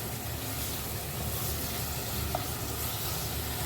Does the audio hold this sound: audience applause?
no